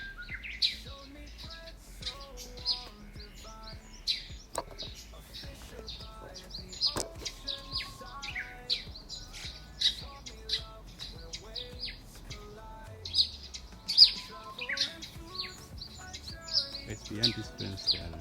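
Many birds chirp and sing in a wildlife nature park in Mombasa, with dense overlapping tweets and calls throughout, fairly close, plus light background rustle and faint human voices.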